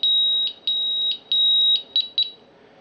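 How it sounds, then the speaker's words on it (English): A Honeywell GasAlert Extreme gas detector sounds its alarm in loud, shrill electronic beeps, seven or so bursts in an uneven rapid rhythm with no talk. "it can't be acknowledged as long as the unit is still alarmed"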